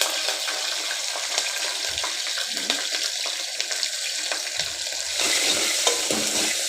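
Garlic and green chilies fry in a pan for minapappu charu, a steady, fairly loud hiss and crackle with faint clinks of stirring.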